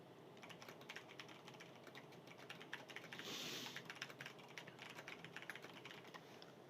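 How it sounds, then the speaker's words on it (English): Rapid typing on a fairly loud computer keyboard, a dense run of close key clicks and taps in quick irregular bursts, heard faintly with no voices. "this keyboard's quieter than the last one, but it's still pretty loud"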